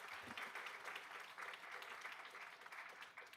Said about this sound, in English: Big round of applause for Middleburg Elementary School.